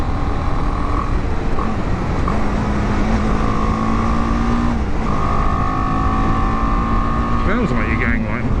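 BMW G310GS single-cylinder motorcycle engine accelerating at speed, a steady droning whine with shifting pitch under heavy wind rush, continuous throughout.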